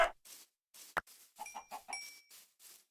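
Minecraft chickens making short, soft clucking sounds in a choppy cluster of brief calls, along with a sharp ding and a few quick chirps, all faint and with no voices.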